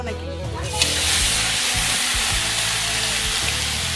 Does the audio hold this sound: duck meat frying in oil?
yes